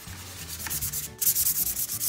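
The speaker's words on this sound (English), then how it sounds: "I have gotten a new piece of sandpaper." Fresh sandpaper is rubbed back and forth over a wooden furniture piece being prepared for chalk paint, giving close, rhythmic scratchy strokes that grow louder and brighter toward the end, with no talking.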